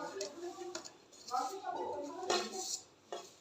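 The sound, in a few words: churi being put into a serving bowl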